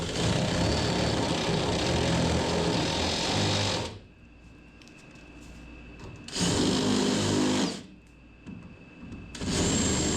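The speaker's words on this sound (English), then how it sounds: "we'll drill out the rust until it's solid metal" A power drill bores out rusted spots in car body sheet metal, running loud and steady in two long bursts with a short quiet gap, then starting again at the end.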